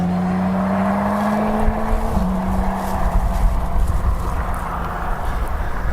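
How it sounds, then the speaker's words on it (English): A loud motorcycle passing by outdoors at a landscape painting spot, its engine drone rising and then dropping in pitch as it goes past, with steady broadband road and wind noise underneath. "everyone to know that they're riding a motorcycle."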